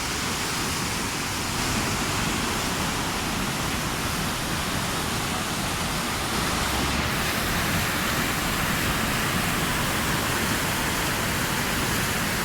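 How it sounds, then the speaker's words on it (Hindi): Steady, loud rush of the fast-flowing Swat River in Pakistan, a dense unbroken roar that fills the whole stretch without pause. "पानी का फ्लो बहुत तेज़ है, ये दरिया"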